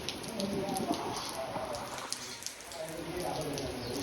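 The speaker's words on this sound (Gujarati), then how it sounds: "મસ્ત મજાનો એક વરસાદ ચાલુ થઈ ગયો છે" Steady rain falls in a village, a soft continuous hiss of drops on surfaces with faint scattered taps, moderately distant and even throughout.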